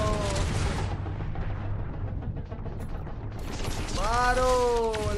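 Machine gun fire in the Guardians of the Galaxy video game on PlayStation, a dense, rattling mechanical burst that runs continuously under game music and effects, with a brief spoken shout at the start.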